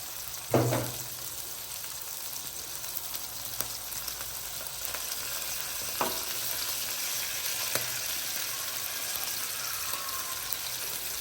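Milkfish pieces hit a hot pan of sizzling ginger and garlic, with a sharp splash of frying at the start, then a steady close hiss and a few scattered pops and clinks of stirring.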